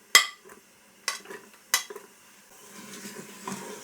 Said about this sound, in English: Just give them a little cook stir.